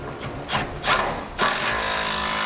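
Power tool tightening a 10mm nut during a gooseneck trailer hitch install on a 2012 Ram 3500: short ratcheting bursts, then a sustained loud whirring run close by, with no talk.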